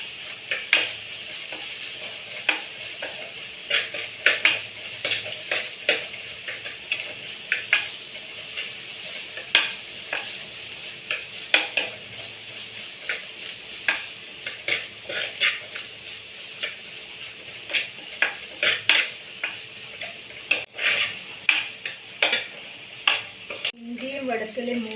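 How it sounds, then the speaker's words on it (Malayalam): Onions sizzle in hot oil in a pan while a utensil stirs them, with repeated close scraping strokes over a steady frying hiss and a brief louder clatter near the end. "സവാള ചേർത്ത ശേഷം നല്ലവണ്ണം ഇളക്കിയിട്ടത് ബ്രൗൺ കളറാകുന്നവരെ ഇളക്കി കൊടുക്കണം"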